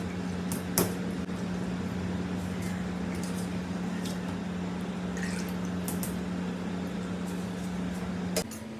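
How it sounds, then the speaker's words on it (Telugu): Soaked basmati rice goes into a pot of boiling water for restaurant-style biryani, with a steady bubbling hiss, a low kitchen hum and a few sharp clinks and splashes. "సో ఇప్పుడు నానబెట్టుకున్న ఈ బాస్మతి రైస్ని ఈ బాయిల్డ్ వాటర్లో"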